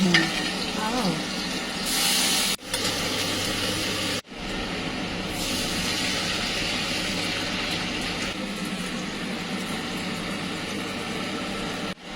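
Black cumin and onion fry in oil with a continuous close sizzle and stirring that runs for several seconds, broken by a couple of brief gaps, with no clear talk.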